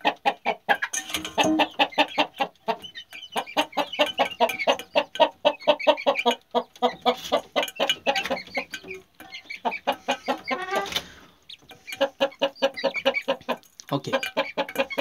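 Several quails cluck and chatter in rapid repeated bursts, busy and close, continuing almost without pause.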